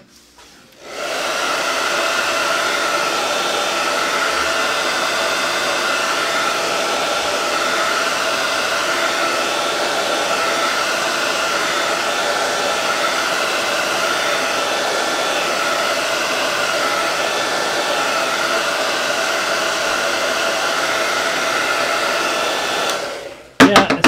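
A hair dryer blows continuously on a freshly washed chalk craft piece for botanical flower wall decor, a loud steady whooshing drone switched on at the start and off at the end.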